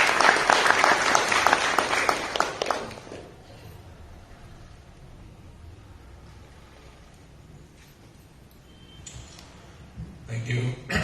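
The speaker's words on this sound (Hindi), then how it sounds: "ताली बजाकर उनका स्वागत करेंगे।" A church congregation claps to welcome the preacher, dense applause for the first three seconds that then drops to quiet room tone, with faint voices and movement afterward.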